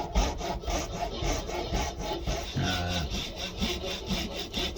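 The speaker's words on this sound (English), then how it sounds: "Here you can see the blade bending as I'm cutting." Hand saw cutting excess material off a custom handle on an Opinel #10 knife, a steady back-and-forth rasping stroke repeated at a quick even rhythm, close and clear with no talk.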